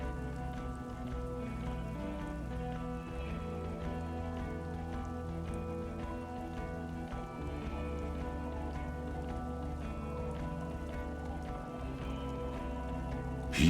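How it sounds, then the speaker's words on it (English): Steady rain falls in the video game Disco Elysium, a continuous even patter with low ambient drone and music beneath it, holding level throughout. "Rain comes down."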